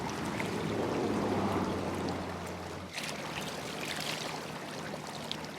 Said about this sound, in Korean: 아주 좋은 개울을 발견했습니다